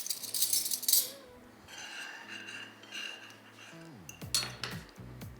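A fork works through soft avocado for bruschetta, making close metallic clinks and scrapes against a plate or bowl, with sharper bursts at the start and near the end and quieter rubbing and mashing between.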